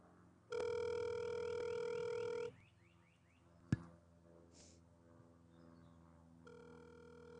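A telephone call-back begins with a steady dial tone for about two seconds, then a sharp click and quiet line noise, with a brief tone returning at the end.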